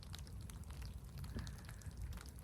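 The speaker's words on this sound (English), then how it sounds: "It's raining a bit now, isn't it?" Light rain patters steadily and softly on surfaces around an outdoor wild camping spot, a faint continuous hiss with scattered drops and no voices.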